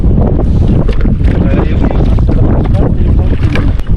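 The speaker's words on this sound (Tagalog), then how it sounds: "Lakas ng hangin." Strong wind buffets the microphone in a loud, continuous roar on a fishing boat, with boat engine and water noise mixed in throughout.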